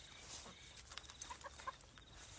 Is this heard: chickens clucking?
yes